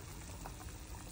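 Broth for lomi bubbling steadily in a pot, a soft continuous simmer with a gentle rolling texture, fairly quiet and close, no voices.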